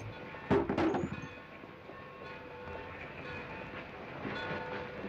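A train in a 1951 film, with a rumbling passenger train rolling steadily along the tracks, a short horn or whistle blast near the start and a continuous mechanical drone throughout.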